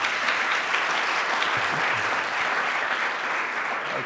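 Steady, dense applause from an audience at a keynote lecture on open access and data science, filling the whole stretch evenly without any voices.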